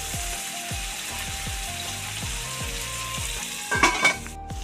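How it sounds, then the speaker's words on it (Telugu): Upma ingredients with tomato pieces frying and sizzling steadily in a pan, with repeated soft scraping strokes as the mixture is stirred and a brief louder clatter near the end. "ఇట్లా బాగా కలిపిద్దాము ఇవన్నీ ఒక నిమిషం బాగా మగ్గనిస్తాం మూత పెట్టుకొని"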